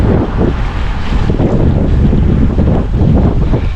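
Strong, cold mountain wind in Japan roars and buffets the microphone of a cyclist on a steep climb, a loud low rumble with no voices.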